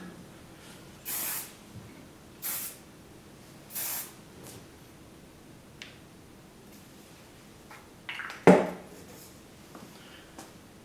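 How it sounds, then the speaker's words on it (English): KMS medium hold hairspray hisses onto a finished updo in three short, evenly spaced bursts, followed by a few light clicks and rustles close by. "I'm just going to use my KMS medium hold hairspray to finish it"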